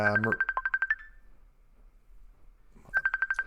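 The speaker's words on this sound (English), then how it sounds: "hold on, I'm getting a phone call." A phone's electronic ringtone for an incoming call, a quick burst of rapid pulsing beeps that repeats after a pause, with a voice briefly at the start.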